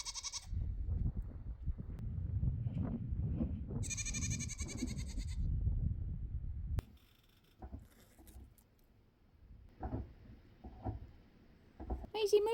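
A goat being milked lets out a couple of loud, close bleats over heavy rustling and wind-like noise, followed by quieter shuffling and scattered small sounds.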